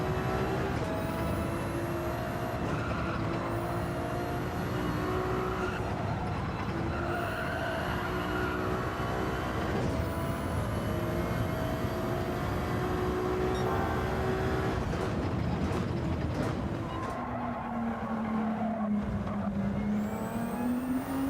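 Race car engine in Gran Turismo 7 screams through repeated upshifts, each gear climbing steeply in pitch before a sharp drop, then a deeper downshift and revs near the end; continuous and loud with no voices.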